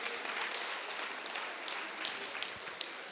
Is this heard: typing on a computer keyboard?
no